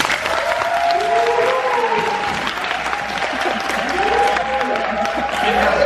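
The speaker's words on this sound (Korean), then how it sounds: "여러분 박수 한번 주십시오" Loud, steady applause from an audience at a live show's prize draw fills the scene, with voices talking and calling out over the clapping.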